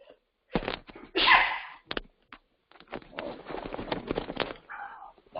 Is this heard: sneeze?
yes